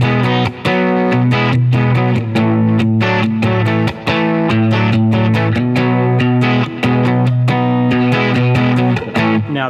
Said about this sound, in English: let's throw on our distortion again. Actually, let's use a different one.